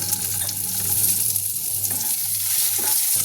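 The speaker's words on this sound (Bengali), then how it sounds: "এর মধ্যে আমি দিয়ে দেবো এই টমেটো কুচোগুলো" Chopped tomatoes hiss and sizzle in hot oil with cumin seeds and dried chilli, a close, steady frying crackle with a low hum beneath.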